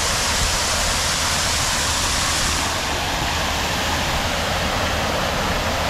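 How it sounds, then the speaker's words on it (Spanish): Loud, continuous rushing spray of water jets from a city fountain in downtown Hamilton, Ontario, heard up close as a dense, steady hiss with no voices. "Vean los ciclones de agua que salen de por acá."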